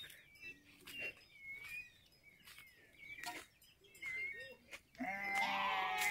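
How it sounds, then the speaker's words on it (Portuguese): Sheep bleat repeatedly on a rural farm in the Bahia backcountry, scattered calls rising and falling near and far, ending in a louder, close bleat over quiet background. "As ovelhas."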